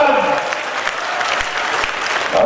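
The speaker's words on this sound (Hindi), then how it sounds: "वो जोरदार ताली के साथ पूज्य महाराज जी का स्वागत" Loud, sustained applause from a large crowd at an outdoor election rally in Gorakhpur, steady clapping filling the whole stretch with a few sharper claps standing out.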